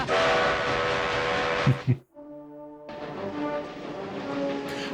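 A train in Back to the Future Part III, a steam locomotive in the Old West: loud rushing chuffing and rumble, then a sudden cut to a clear multi-tone whistle blast, followed by the steady rumbling roll of the train.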